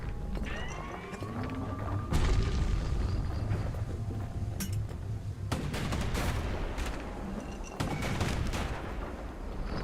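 Loud, dense blasts and booming impacts from grenades and live munitions in the Bastion video game, with sharp bursts recurring over a rumbling, continuous low roar, no speech.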